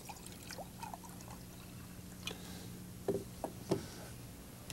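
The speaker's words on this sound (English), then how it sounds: "I'm going to add some clear lake water to these jars." Clear lake water is poured into jars, a faint gurgling trickle with a few soft clinks and knocks of glass, quiet and close with no voices.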